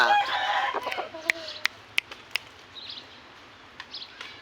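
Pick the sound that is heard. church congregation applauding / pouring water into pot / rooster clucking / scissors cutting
rooster clucking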